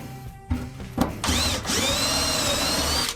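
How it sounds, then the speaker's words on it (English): A power tool whirs steadily while M8 riv nuts are set into holes on a Suzuki Samurai during a seat swap, preceded by a couple of short clicks and knocks, loud and close. "I'm going to put some of these riv nuts in these holes"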